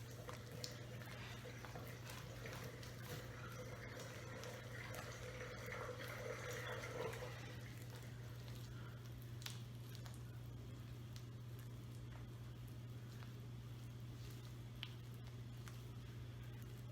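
Butter being worked by hand into cinnamon roll dough, a soft, wet squishing and patting over the first half that fades out. A steady low hum runs underneath throughout.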